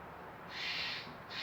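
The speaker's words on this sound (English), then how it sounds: "What a horrible fucking bird." A bird, most likely an owl, gives loud raspy calls: one sustained screech near the middle and another starting at the end, close and prominent with no talk over it.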